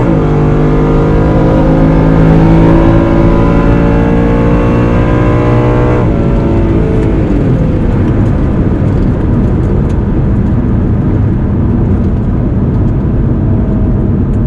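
Drag race car accelerating hard down the strip at an NMRA Spring Break Shootout event, a loud roaring engine whose pitch climbs through gears, then a dense sustained roar as it pulls away.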